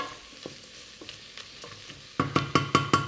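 Chillies are stirred through hot oil in a pot for Tom Yum soup, a quiet sizzle broken by soft scraping strokes that turn into a quick run of louder, rhythmic stirs at the end.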